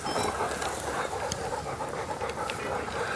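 Hunting dogs pant heavily after retrieving pheasants, a steady rapid rasp of breath close by, continuous for several seconds over faint outdoor background noise.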